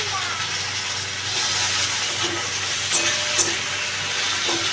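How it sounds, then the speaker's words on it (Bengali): Chopped tomatoes fry in a pan with a constant broadband sizzle, slightly louder after the first second, with a few soft clinks of stirring over the steady hiss. "টমেটোটা ভালোভাবে ভাজা হয়ে এলে"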